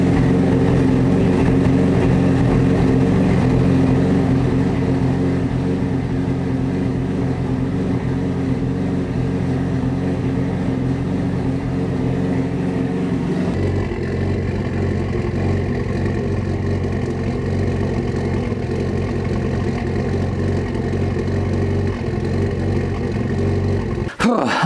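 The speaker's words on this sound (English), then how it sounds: "now let's just start the car up and see if it runs better" A Mitsubishi Evo idling after its idle air control valve was cleaned, a steady close engine drone with a shift in tone about halfway through and a brief clunk at the very end.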